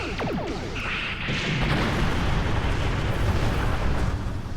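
Torpedo explosions in Star Trek Online space combat: a loud sustained roaring blast with rumbling bursts and crackle, continuous and dense, no voices.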